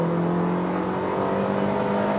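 Hyundai Creta 2.0 under full throttle from 60 to 120 km/h, its engine droning steadily louder and higher with road and wind noise filling in beneath, heard from inside the car.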